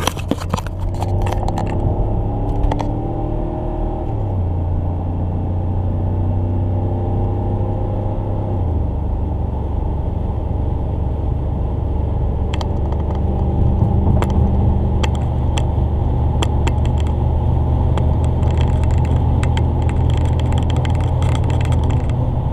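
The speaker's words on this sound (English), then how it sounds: "Okay, here we go on the freeway" 2004 Range Rover cruising on a freeway in fifth gear, a steady loud engine drone and road rumble heard from inside the cabin, with gear-change shifts in tone early on and faint ticking noises, no talk.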